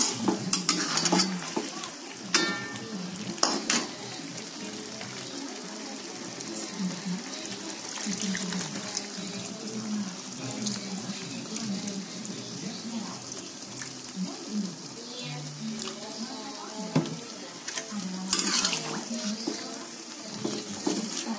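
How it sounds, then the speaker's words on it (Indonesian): Chicken with green chili cooks in a pan as water goes in, a soft bubbling sizzle with scattered clinks and scrapes of a utensil against the pan, some quiet speech mixed in. "Oke, mau ditambahin air ya teman-teman."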